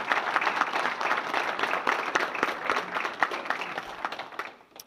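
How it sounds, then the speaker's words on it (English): An audience at a college football coach's introductory press conference applauds, a dense, even round of clapping that holds for several seconds and then fades out. "I would like a round of applause to acknowledge all he does for our institution"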